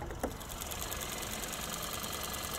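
A Kia Seltos 1.6 turbo direct-injection engine idles close up with the hood open, a fast, even mechanical ticking over a steady hum, no talking.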